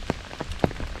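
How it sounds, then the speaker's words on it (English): Steady, light rain falls on a ridge top along the Appalachian Trail in Virginia, with close, scattered drops pattering on a surface in an irregular rhythm, fairly quiet and with no voices. "It's just been a steady rain, not heavy."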